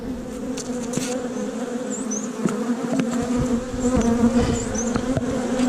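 Honeybees buzz in a dense, continuous drone during a hive inspection outdoors, with individual bees whining past up close and a few light knocks of hive equipment.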